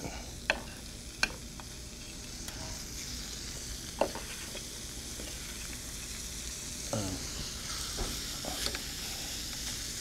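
Medallions laid pepper side down sizzle in a pan with extra virgin olive oil, a soft steady searing hiss with a few light clicks of utensils, fairly quiet and close.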